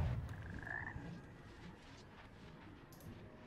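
Frogs croaking in the Hogwarts Legacy video game, a few faint low croaks and a brief higher chirp near the start, quiet and sparse against soft background ambience.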